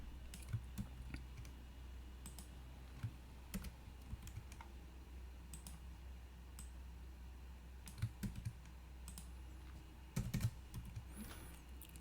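Code being typed on a computer keyboard at a desk, with sparse, irregular key clicks and a few short bursts of faster keystrokes over a steady low hum.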